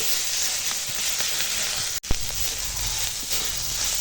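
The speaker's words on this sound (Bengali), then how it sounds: "পেঁয়াজের সঙ্গে মশলাটা কষিয়ে নেবো, আমটাও দিয়ে দিয়েছি, সব একসঙ্গে কষিয়ে নেবো।" Spices sautéing with onion and raw mango in a pan, a steady close sizzle and hiss with faint stirring scrapes, briefly cut out for a moment midway before resuming.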